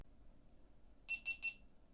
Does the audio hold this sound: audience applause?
no